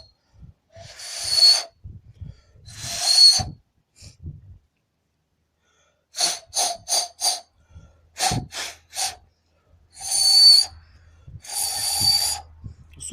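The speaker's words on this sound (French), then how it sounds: "On souffle dans les deux trous, hein." Someone blows sharp, breathy puffs of air into the two holes of a diesel exhaust pressure sensor from a 1.6 HDI engine, about a dozen short bursts in irregular groups separated by silence.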